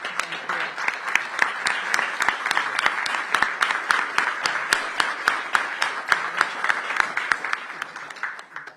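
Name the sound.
round of applause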